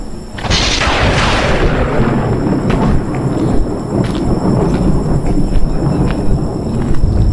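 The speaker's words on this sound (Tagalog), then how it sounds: "Lakas ng kulog ah." Loud thunder rolls and rumbles close by, a sharp crack at the start fading into a long, deep, continuous rumble.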